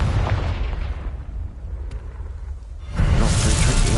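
A fiery Confringo blasting spell goes off in the Hogwarts Legacy video game: a rumbling explosion fades to a low roar, then a second loud, close burst erupts near the end, with no voices.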